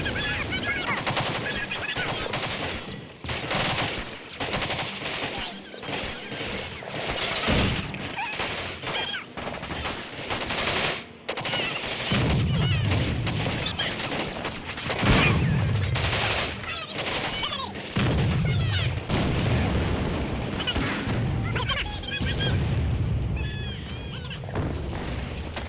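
Gunfire and artillery explosions in the WWII strategy game Men of War: Assault Squad 2, dense rattling machine-gun bursts and rifle shots with repeated heavy booms through the battle, and a voice talking over parts of it.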